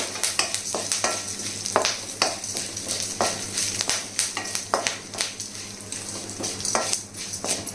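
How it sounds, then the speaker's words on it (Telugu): Curry leaves fry in oil, giving a soft background sizzle under repeated scraping and clinking of a metal spoon against the pan. "ఇప్పుడు ఇందులో కొంచెం కరివేపాకు రెమ్మలు కూడా వేయాలండి వేసి ఇవి కూడా చిట్టపటమని అంటాయి కదండి"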